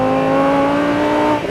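A naturally aspirated V10 engine of a Lamborghini Huracán LP 610-4 revs hard with a strong, steady tonal whine, loud and close, holding its pitch for a moment before easing slightly at the end.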